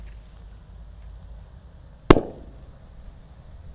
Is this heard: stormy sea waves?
no